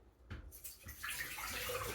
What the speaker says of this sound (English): I'm going to pour some water again in the sink.